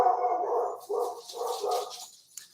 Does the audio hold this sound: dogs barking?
yes